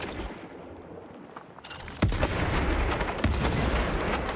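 Gunfire and heavy booms in Warhammer 40000: Space Marine II, a dense battle din that jumps louder halfway through with sharp shots and blasts over a constant roar.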